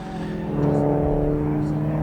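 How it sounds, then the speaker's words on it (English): A Lotus Exige race car runs in the T2 class at the 2008 SCCA Runoffs, its engine a steady, loud droning whine that rises slightly as it passes, heard under a commentator's voice. "Justin Bell, a Lotus running in T2, beautiful sight"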